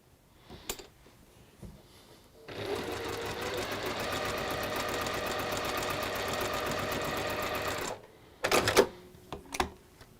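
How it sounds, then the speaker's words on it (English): A sewing machine runs a quilt seam in one steady, rapid stitching burst of about five seconds, bracketed by a few soft clicks and handling knocks before and after. "So we're going to sew that one along the bottom"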